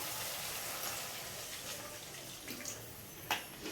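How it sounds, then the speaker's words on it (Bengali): Water poured into frying spice paste for doi begun, a faint wet splashing pour with a brief sharper splash near the end, no voices. "এবার আমি পরিমাণ মতো জল দিয়ে দেবো"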